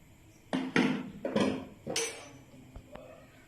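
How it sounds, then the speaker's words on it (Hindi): A frying pan is set down on a kitchen stove before oil is added, producing several close metallic clanks and knocks in quick succession, followed by a couple of faint taps. "ये पैन मैंने चूल्हे पे चढ़ा दिया है और 1 चम्मच के करीब मैं ऑयल इसमें शामिल कर दूंगी"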